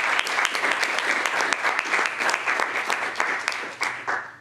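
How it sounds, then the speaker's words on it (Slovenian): A room full of people applauds at an awards ceremony, steady dense clapping close by that holds for several seconds before tapering off at the end. "Lahko damo en aplavz."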